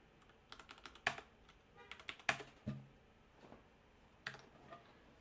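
Scattered keystrokes on a computer keyboard tap out in short irregular clusters, close and quiet against a hushed room, with pauses between the bursts of typing.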